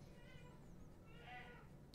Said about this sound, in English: It's not a cat, I'm sorry, guys, that's my old dog, and she just acts like that.